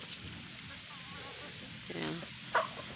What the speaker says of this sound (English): this is one of our rooster.